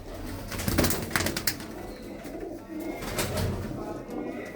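Blue-footed pigeons of a high-quality breed coo in low, rolling calls amid a noisy, hissy backdrop, with a brief flutter-like burst near the start.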